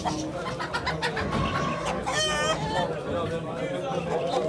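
Chickens and roosters cluck and squawk at a poultry auction in Ankara, a busy close flock sound with a sharp rising call midway, under an auctioneer's continuous talk.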